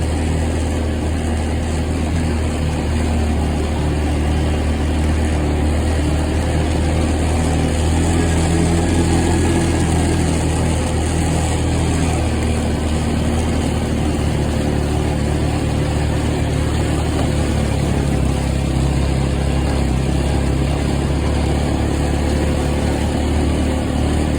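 A four-wheeler ATV engine drones steadily and loudly throughout, climbing a muddy track in rain, with a continuous low rumble and no pauses.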